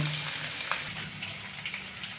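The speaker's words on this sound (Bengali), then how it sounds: "এই পাশে আলুটা ভাজা হচ্ছে" Medium potato pieces frying in oil left over from frying papad, giving a soft, continuous sizzle with faint crackles throughout and no talking.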